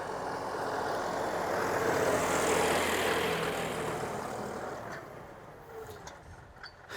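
A John Deere tractor pulls a ridger to make furrows in a farm field. Its engine makes a steady, rumbling drone at moderate distance, swelling slightly and then fading a little toward the end.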